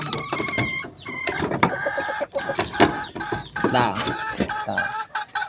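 A gamefowl brood stag at a game farm clucks and crows, with other chickens and fowl calling densely throughout at close range, loud and busy with overlapping bursts.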